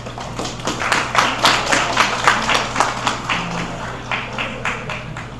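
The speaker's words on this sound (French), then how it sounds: "sous vos applaudissements, s'il vous plaît." Audience at a French-language workshop opening applauding, a steady run of rhythmic, moderately loud hand claps over a low background hum, no talk.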